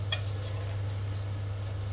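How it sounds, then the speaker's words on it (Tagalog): Seafood fries in hot cooking oil in a home kitchen, giving a steady, close sizzle with a low hum beneath it and a faint stir near the start, with no talking. "magpiprito na tayo pala mga idol. Maghihin tayo ng mantika."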